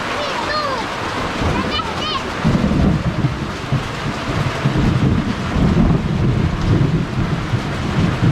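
Thunder rumbles through a lightning storm at a family home in the Philippines, low and rolling and building louder partway in over steady rain, with short whistling bird-like chirps early on.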